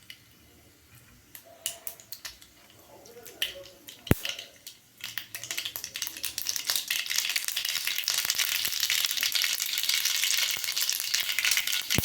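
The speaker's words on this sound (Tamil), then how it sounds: "எண்ணெய் காஞ்சிருச்சு. கடுகு 2 போட்டுக்கலாம்." Mustard seeds hit hot oil in a kadai for tempering, starting with a few faint crackles and pops and building into a continuous loud sizzle and spatter.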